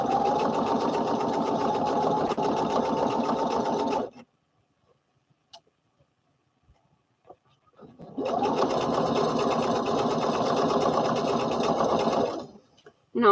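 A serger sewing machine stitches fabric in two long close bursts of fast, even mechanical chatter, separated by a few seconds of near silence with faint small clicks.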